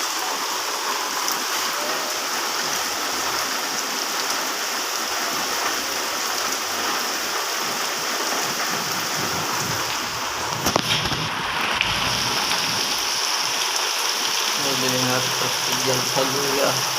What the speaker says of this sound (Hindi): अभी तक बारिश बरस चली है